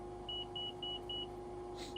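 An overspeed warning tone in a Cessna Citation Sovereign (C680) flight simulator cockpit: a short, steady, repeating beep pulsed about five times at an even rhythm over a constant low cockpit hum.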